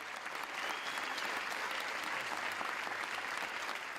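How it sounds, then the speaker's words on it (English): A Venice Film Festival audience of hundreds gives a standing ovation as the credits roll, a dense, continuous wash of applause filling the hall evenly from start to end. "As the credits rolled on screen, the Venice crowd gave a standing ovation."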